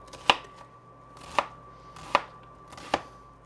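Knife chopping onion finely on a cutting board, four sharp close chops spaced under a second apart against a quiet background, no talk.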